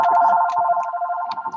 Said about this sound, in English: why does the phone have to ring?